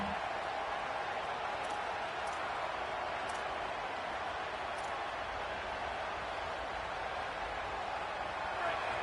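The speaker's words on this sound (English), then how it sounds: "Decibels rising as the crowd gets behind this defense on third down." Football stadium crowd roaring steadily on a third down, a dense sustained wash of cheering and noise with no clear breaks, loud and constant throughout.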